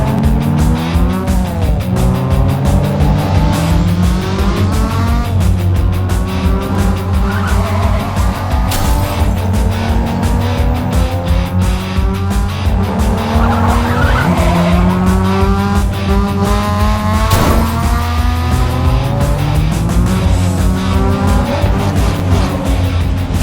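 Race car engines and tire skids in a comic-book-style diecast racing scene themed on Initial D, with loud, continuous revving whose pitch sweeps up and down and repeated squeals as cars slide through corners, with no talk.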